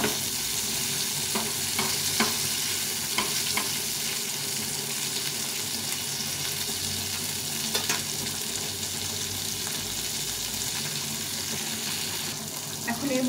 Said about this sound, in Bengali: এখন এটাকে ভালো করে ভেজে নিতে হবে।